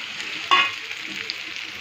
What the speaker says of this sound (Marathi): तेल तापल्यानंतर यामध्ये जिरं, थोडासा कुटलेला लसूण, आणि भेंडी टाकून घ्यायची.